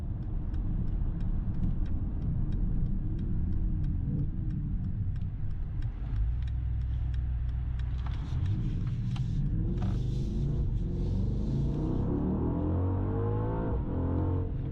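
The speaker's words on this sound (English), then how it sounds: "The sound is really insane in this car. You can really, yeah, it is very, very loud. And that engine is so aggressive." Mercedes GLE engine in Euro Truck Simulator 2 cruising on the Autobahn, a loud steady low rumble that holds for the whole stretch, with a few faint clicks and a shifting tone toward the end.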